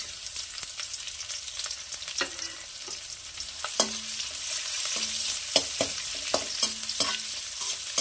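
Chopped onion fries in hot oil with panch phoron spices, a gentle sizzle broken by scattered spoon scrapes and stirs, with no voices.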